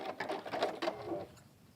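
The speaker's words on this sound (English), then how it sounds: "I'm going to do that holding stitch and then just stitch off the end." A sewing machine stitches off the end of a bag with a rivet handle in a short burst of rapid mechanical chatter up close, then stops and leaves quiet.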